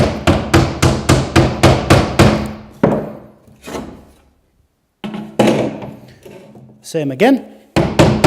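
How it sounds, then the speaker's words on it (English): Claw hammer tapping along a score line in 6mm Hardie cement backer board: a quick run of about eight sharp, regular knocks, a pause, then more firm taps close up, with a brief spoken remark between them. "Take a claw hammer just to weaken along the cut."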